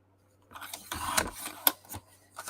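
Scissors snipping through craft material at a close distance, with a few distinct cuts and rasping slides amid handling noise, and no talking.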